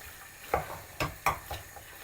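Chilli ingredients frying in a non-stick pan, giving a soft steady sizzle with several sharp stirring clicks and scrapes at irregular intervals, close and fairly quiet.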